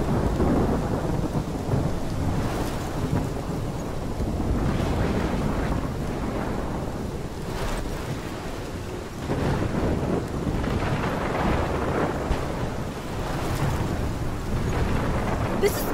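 A thunderstorm in Life is Strange: continuous heavy rain with deep rolling thunder swelling and fading throughout, loud and dense with no voices.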